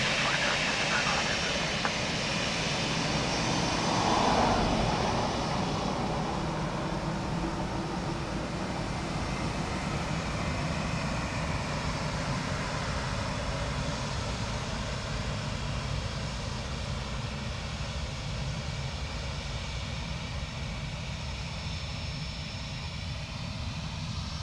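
An Airbus A321XLR jet turning in at Dublin Airport gives a steady, continuous engine roar that swells slightly early on, then holds at a broad, even level throughout, with faint background speech.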